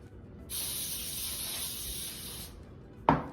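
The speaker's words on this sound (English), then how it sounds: "You wanna make sure to spray it with some baking spray." Baking spray hisses from an aerosol can into a cake pan in one steady burst of about two seconds, followed shortly by a brief clunk.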